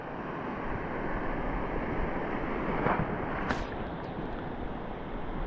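Ocean waves breaking at the shore during ultralight fishing, a steady loud wash of surf with wind rumble throughout and a brief swell near the middle, no voices.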